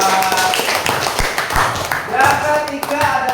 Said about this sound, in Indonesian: tepuk tangan Mbak Noval